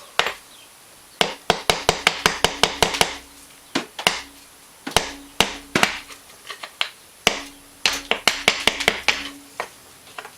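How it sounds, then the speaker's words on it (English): A Rancher 420 engine part is tapped during teardown in quick bursts of sharp metallic strikes, each cluster of closely spaced hits separated by short pauses, loud and close with no talking. "tap this thing a few more times"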